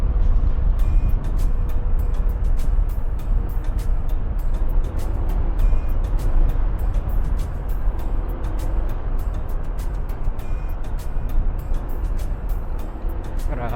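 Steady road traffic on a congested road in Pangasinan, Philippines, with cars and trucks rumbling close by at constant loudness, brief air-brake hisses and scattered clicks, and no voices.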